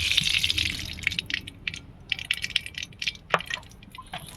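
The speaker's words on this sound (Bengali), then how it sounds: "কড়া গরম হয়ে গেছে, আমি কড়াতে সাদা তেল দিয়ে দেবো।" White cooking oil pours into a hot wok with a brief liquid splash at first, followed by scattered drips, soft crackles and small clinks close by.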